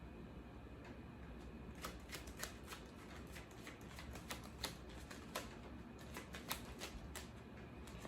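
Tarot cards shuffled and handled on a table during a love reading: a run of crisp, quick card snaps and flicks in uneven bursts, close and fairly quiet over a steady low hum.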